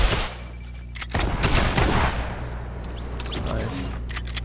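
Video game gunfire in a multiplayer shooter: sharp bursts of shots, a few clustered volleys near the start and scattered single cracks later, loud and close with no talk over them.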